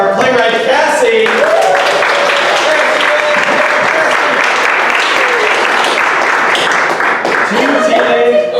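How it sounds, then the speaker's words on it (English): A theatre audience applauds a playwright at the end of a show, steady dense clapping filling the room throughout, with some voices calling out underneath. "And another round of applause for our playwright Cassie."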